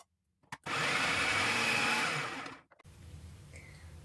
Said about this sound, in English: I'm gonna chop it up, put it in the processor